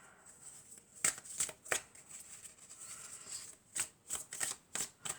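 Tarot cards being shuffled during a card reading, a series of crisp riffling snaps, a few spaced bursts early and a quicker run of shuffles near the end, close and clear with no talk.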